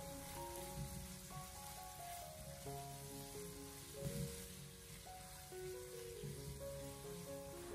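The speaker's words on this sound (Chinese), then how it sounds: "再把切好的姜蒜还有小米辣放进来，然后再继续的开小火给它慢慢的翻炒" Ginger, garlic and small bird's-eye chilies sizzle in rendered pork fat over low heat while being stir-fried for a lettuce-stem and pork dish, a faint, steady crackle under sustained tonal music.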